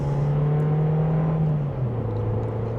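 Volkswagen Jetta sedan under a small acceleration, a steady engine hum rising in pitch, then dipping at a shift, heard from inside the car with no talk.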